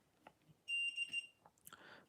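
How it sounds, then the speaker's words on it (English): A cheap desoldering station's soldering iron gives a steady electronic beep lasting about half a second as it goes to sleep, clear and close against a quiet room with faint clicks around it. "the soldering iron going to sleep"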